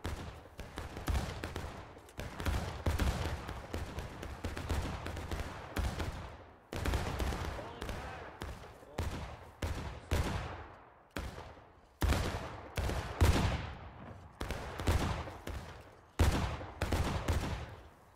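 Repeated musket volleys crack out in the Civil War game War of Rights, dense ragged bursts of many rifles firing together, each followed by a brief lull, loud and close across the whole stretch.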